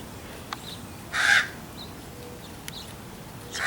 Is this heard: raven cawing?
yes